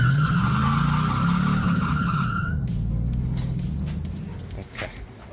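A car spinning its tires in a burnout, a loud sustained squeal over a revving engine rumble that fades out partway through, leaving lower engine noise.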